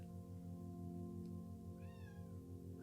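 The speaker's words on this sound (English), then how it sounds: "I hear a cat." A cat meows once, a short rising-falling call standing out over a steady low hum and droning background noise.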